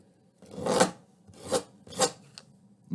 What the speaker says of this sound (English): I'm going to use that sandpaper, and as I sand it